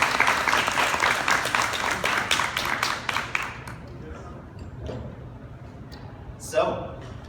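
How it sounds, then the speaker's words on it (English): Audience applause for Alex Morrison at a Penn State Shenango Stamp Out Stigma event, a dense burst of clapping for about four seconds that thins and fades, followed by faint room noise and a brief soft rustle near the end. "Can I please get another round of applause for Mr."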